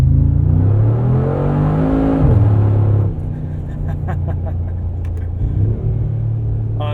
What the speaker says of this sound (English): Should we do a little acceleration in the snow here?